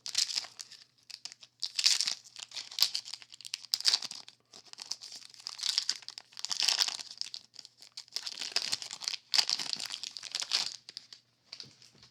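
A 1991 Studio baseball card pack wrapper is torn open, producing close, crisp crinkling and tearing bursts that continue irregularly with brief gaps.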